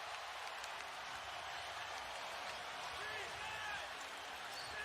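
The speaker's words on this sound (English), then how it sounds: "And the crowd fired up." A basketball arena crowd roars in a steady, dense wash of cheering and noise during an NBA game, with a commentator talking over it.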